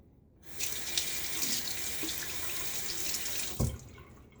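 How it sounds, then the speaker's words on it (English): Tap water runs steadily into a sink for a quick rinse during a shave, a soft, even splashing rush of a few seconds with a small clunk near the end as the flow stops. "a little quick water rinse"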